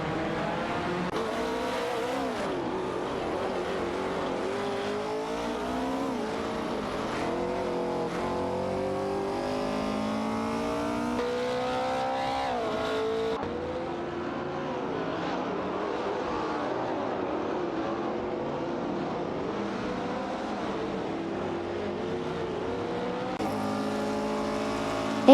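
Race cars in a racing video game, including a Cooper Type 61 Monaco and Chinook MK2, engines droning and revving steadily with shifting pitch sweeps, loud and continuous throughout.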